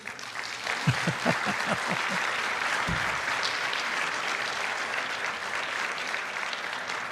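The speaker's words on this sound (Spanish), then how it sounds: "Un aplauso por el amor de Dios." A crowd bursts into applause, steady clapping from many hands that holds strong throughout without fading.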